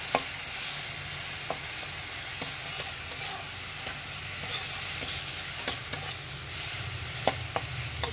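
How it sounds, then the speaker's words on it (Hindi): Ridge gourd masala with garlic, cumin and green chilli fries in a pan with a steady, loud sizzle, while a spoon scrapes and stirs in frequent sharp clicks throughout. "अब इसको भूनेंगे।"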